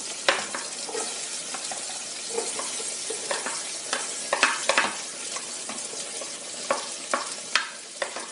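Onion frying in a pan with garlic and ginger for Filipino beef stew, a steady close sizzle broken by scraping stirs and small pops, with no talk.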